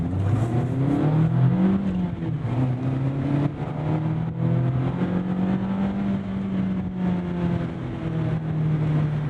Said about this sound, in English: We're powered by a naturally aspirated inline-4 2-liter engine making 181 horsepower, 151 pound-feet of torque